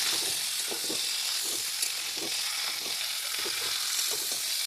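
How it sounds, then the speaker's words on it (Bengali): Jackfruit curry being stirred through fried spices and potatoes in a pan, a steady bright sizzle and hiss with soft repeated scraping strokes every half second or so, close and continuous. "নাড়াচাড়া করে আমরা মেলাই নিব।"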